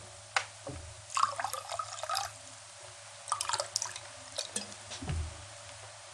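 Liquid poured into a glass at a festive Easter table in a 1960s Ukrainian village drama, with soft drips and trickles in short bursts, fairly quiet, no talk over it.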